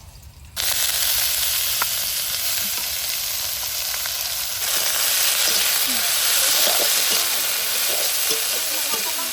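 Greens dropped into hot mustard oil with dried chili, nigella seeds and garlic, hissing and sizzling loudly and steadily from up close, with occasional stirring scrapes.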